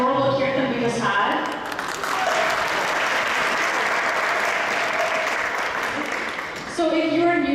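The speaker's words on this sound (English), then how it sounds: "Let's get a round of applause for that adorable look" Loud, sustained applause from a large audience at an ISKCON Toronto lecture, with someone talking briefly before it swells and again as it dies down.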